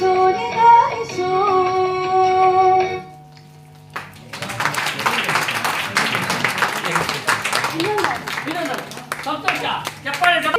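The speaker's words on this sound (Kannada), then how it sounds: "ಚಪ್ಪಾಳೆ ಚಪ್ಪಾಳೆ" Audience applause at a Naadahabba and New Year's Eve celebration, a burst of many hands clapping that starts after a sung phrase and continues densely for several seconds, mixed with a voice.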